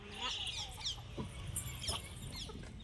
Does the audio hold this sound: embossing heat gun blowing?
no